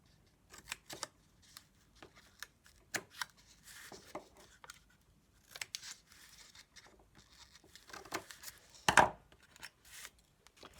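A chipboard album cover is cut by hand to remove a square, with soft scattered snips and scraping cuts in uneven bursts, plus a louder crunch near the end, all close and fairly quiet.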